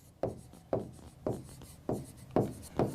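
Chalk or marker strokes on a board during a thermodynamics lecture, six short scraping strokes in a steady rhythm, close and clear with no talk over them.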